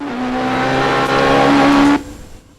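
A rally car's engine on a super special stage at Rali da Calheta 2008 in Madeira, the engine lacking power from low oil. It drones loud and close with a steady high note, then cuts off abruptly.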